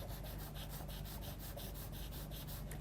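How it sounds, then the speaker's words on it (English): A charcoal pencil scratches rapid zigzag strokes across paper, a close, continuous rough rasp with a quick back-and-forth rhythm. "work some dark zigzag scratchy marks over the top of the eye"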